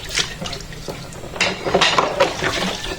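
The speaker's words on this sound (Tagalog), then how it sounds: "sobrang hina lang yung tubig na yan." A weak trickle of tap water runs while dishes are washed by hand in basins at a home sink, with clinks of plates and utensils over a steady low splashing.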